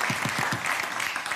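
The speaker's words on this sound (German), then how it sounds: "also ein Applaus dafür, das ist ganz großartig" Studio audience applause on a German cooking show, a dense wash of clapping with a few louder, nearer claps at the start, steady throughout the short burst.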